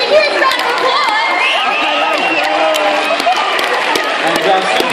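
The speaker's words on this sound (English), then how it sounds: "Give them a huge round of applause!" A crowd cheering and clapping at a Supanova cosplay competition, loud and dense, with shouting, whoops and excited chatter layered over scattered claps throughout.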